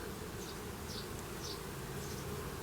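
A huge honeybee swarm clustered on an apple tree fills the air with a dense, steady buzzing hum, with individual bees whining past now and then.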